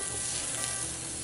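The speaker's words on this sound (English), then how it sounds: "So go ahead and drop one. And that should be a nice sizzle." Steady, loud sizzling of blackened redfish frying in a hot cast-iron pan, a dense hiss that continues without pause.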